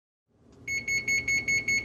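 GE 30-inch gas range (model JGBS66REKSS) oven timer beeping: after a brief rustle, six evenly spaced, loud electronic beeps repeat in a steady rhythm, close to the microphone with no talking.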